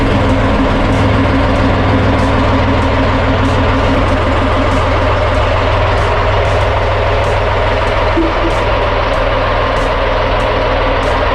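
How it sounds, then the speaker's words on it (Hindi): A ship's engine runs steadily and loudly after push-button start, a dense continuous low rumble with an even mechanical drone and no break throughout. "स्टार्ट करने का just need to press the start button and it will start automatically"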